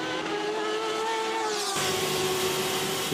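GTE race cars at the 24 Hours of Le Mans pass at speed, engines whining loud and steady, with one note dropping sharply as a car goes by and another car following.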